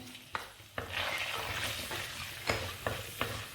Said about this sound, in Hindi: लहसुन अदरक फ्राई हो चुका है